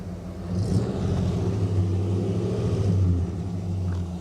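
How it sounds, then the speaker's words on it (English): Engine of a 1988 Mercury Grand Marquis Colony Park station wagon revving, a low, steady rumble that swells once and then settles back to idle, heard close with no talk. "All right, Tom, rev the engine for me, sir."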